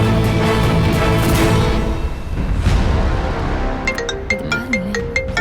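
An incoming-call ringtone on a phone in a Tamil TV serial household scene, a repeated electronic tune heard in the second half over music, starting shortly after a loud dramatic music cue.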